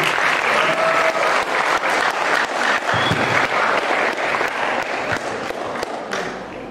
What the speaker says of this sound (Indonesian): Tepuk tangan dulu untuk gurunya.